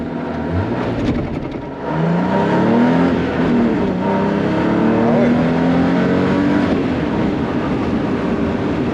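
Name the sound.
car driving fast on a closed road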